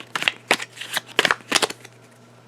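A deck of game cards for a board game is shuffled in several quick, crisp riffling bursts in a fast irregular rhythm. The sound is close and clear over a steady low hum.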